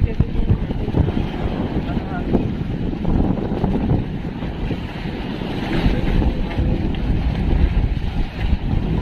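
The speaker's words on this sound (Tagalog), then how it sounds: "Oh, lalaki ng alon, no?" Big Pacific Ocean waves at night wash and surge continuously, mixed with heavy wind buffeting the microphone and the rumble of a boat, with a faint voice in the background.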